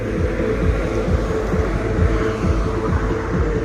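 Vehicles pass on a road outside a home on a busy wedding day, heard as a steady, continuous low rumble of traffic throughout with no voices.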